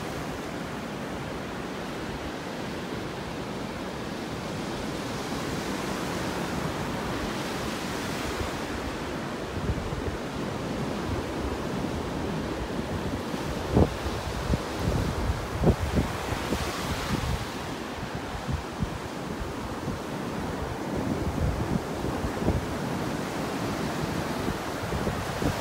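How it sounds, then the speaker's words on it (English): Ocean waves on a beach in North Naples, Florida: continuous surf wash with rolling swells breaking and receding, mixed with wind buffeting the microphone, close and steady. "let you enjoy the sounds of the waves here for a little bit"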